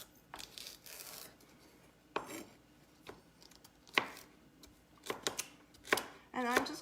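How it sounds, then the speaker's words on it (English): A knife chops through a vegetable on a cutting board while it is cut into quarters for Cajun shrimp with remoulade sauce, giving about seven crisp, separate strikes at an uneven pace, close and fairly quiet. "So we're just going to cut off the ends, and I am just going to maybe cut it into quarters here."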